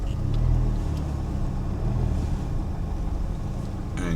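A car reverses slowly across a parking lot. Its engine gives a steady low hum and rumble at close range, with no voices heard.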